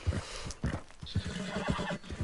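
Horse in Red Dead Redemption 2 whinnying loudly up close, a series of rough neighing bursts and snorts with hoof clip-clop mixed in, no talking.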